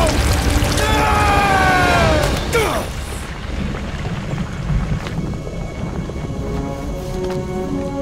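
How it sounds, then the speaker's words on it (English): A worsening storm in the game Guardians of the Galaxy, with a deep rumble of thunder and steady heavy rain; sweeping whistling tones ring out at first, then fade into a constant downpour. "the storm actually getting worse!"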